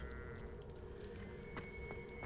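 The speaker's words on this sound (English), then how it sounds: "Did I just hear a goat?" A sheep or goat bleats in the Hogwarts Legacy video game, a wavering, tonal bleat set against steady ambient game noise with faint clicks, moderately close but not loud.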